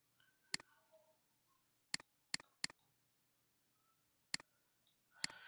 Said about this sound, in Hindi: double click, double click